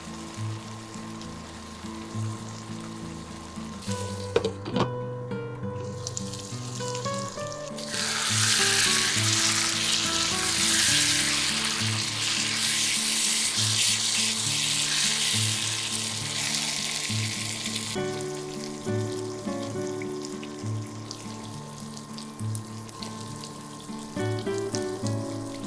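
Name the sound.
dry fish frying in pan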